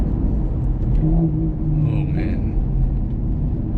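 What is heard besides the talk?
Maserati MC Stradale engine, gearbox and exhaust sound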